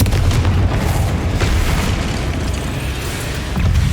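A Confringo fire spell from the video game Hogwarts Legacy bursts in a loud, sustained booming blast, dense rumbling energy filling the whole moment with a few sharper cracks, no talk over it.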